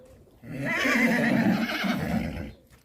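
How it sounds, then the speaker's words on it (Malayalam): A horse in a desert setting gives one loud, drawn-out whinny, rising and wavering for about two seconds before fading, heard alone and close by. "അടിപൊളി കുതിര."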